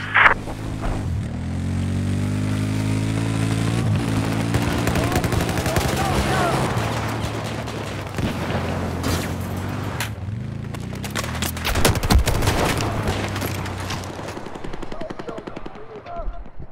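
Machine gun fire rattles in bursts through a Battlefield 4 conquest match on the Guilin Peaks map, loud and dense over engine drone and explosions, with players talking throughout.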